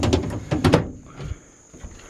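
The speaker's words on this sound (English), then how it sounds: "Doors open and close nice and easy." The door of a 1964 Chevrolet C10 pickup is worked open and shut close by, giving a cluster of sharp metallic clunks early on and a couple of softer knocks afterward.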